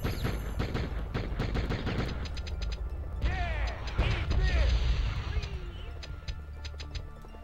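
Gunfire from shooting people in a video game, with bursts of rapid shots and crashing impacts layered over busy game sounds and some voice, loud and dense throughout.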